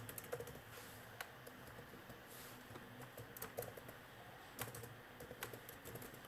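Computer keyboard keys tapped while writing Python Django code, a fast, uneven stream of soft clicks at close range, steady and fairly quiet with no voice over it.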